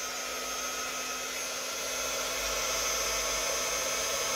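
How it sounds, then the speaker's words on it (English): A heat gun blows steadily over epoxy resin during a galaxy resin pour, giving a continuous close airy whir with a faint motor whine and no other sounds. "I'm going to go ahead and hit this with the heat gun"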